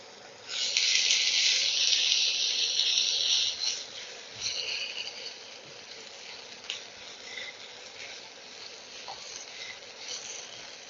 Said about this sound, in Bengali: হাই ফ্লেমে এটাকে ভাজতে হবে।